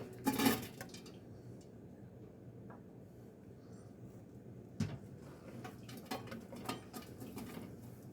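Ground cranberries from frozen going into a cooking pot, a scrape and clatter at the start then soft patter and scattered light utensil taps on metal, fairly quiet, no voices.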